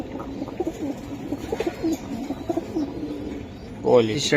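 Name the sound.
pigeons cooing in a loft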